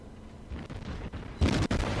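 A broadside of cruiser cannon fire in World of Warships, several booming shots rippling in quick succession, with the loudest burst near the end.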